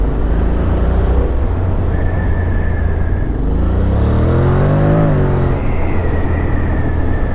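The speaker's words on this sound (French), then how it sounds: "Et voici donc le XADV de chez Honda." A 2019 Honda X-ADV motorcycle rides along the road with a loud, steady engine drone and wind rush, its pitch rising and falling as it accelerates and slows, heard up close from the rider.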